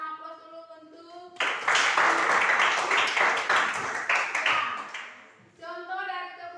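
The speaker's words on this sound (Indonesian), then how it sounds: "Kita berikan aplaus dulu" An audience bursts into applause in a classroom setting, a loud, dense clapping that lasts about four seconds and then fades, with someone speaking before and after it.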